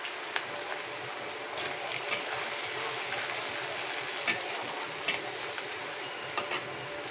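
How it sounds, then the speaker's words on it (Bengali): Chopped garlic fries in a pan with a steady, soft sizzle, broken by occasional sharp clinks and stirring scrapes, with no voices. "রসুনটা ভাজা হয়ে গেছে"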